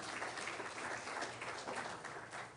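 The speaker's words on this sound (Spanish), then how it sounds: "Que no damos otro aplauso?" Audience at a youth church service applauding, a continuous faint wash of clapping heard at a distance, steady and without breaks.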